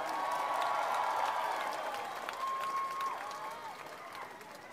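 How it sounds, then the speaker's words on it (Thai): A large crowd applauds at an outdoor political rally at CentralWorld in Bangkok, a broad rolling wash of clapping that gradually fades, with faint voices and a brief whistle-like tone over it. "ปรบมือดังๆ"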